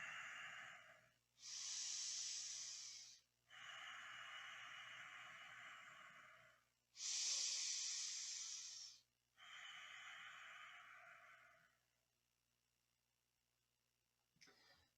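Long, deep breathing during a forward-bending Kundalini yoga back stretch: about four slow, drawn-out breathy rushes in a steady rhythm, close and airy, followed by quiet.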